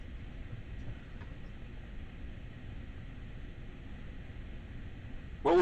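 Steady, droning rumble of a passing M3 commuter train in Train Sim World, even and unbroken, cut off by a sudden loud burst at the very end.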